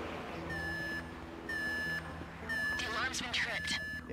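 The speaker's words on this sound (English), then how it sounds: "The alarm's been tripped" Alarm tripped during a video game heist, sounding as repeated loud electronic beep tones in regular bursts about every second, with spoken voices and other game sounds underneath.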